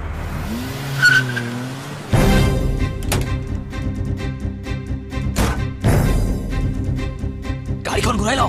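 A car in an Assamese film scene turns around with its tires skidding and squealing, loud broadband engine and tire noise surging in abruptly after a quiet opening and running to the end, with voices talking over it.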